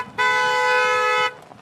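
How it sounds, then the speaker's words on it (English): A horn honks in one steady, loud blast lasting about a second, close by on a farm with cattle, then cuts off abruptly. "she keeps honking and scaring the animals"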